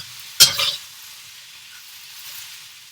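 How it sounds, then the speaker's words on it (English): A single quick scrape and clatter of a spatula working egg and noodles in a wok for Phat Thai, with a brief sizzle, then a low steady hiss fading away. "Scooping, and flipping. And I'm breaking up the egg a little bit."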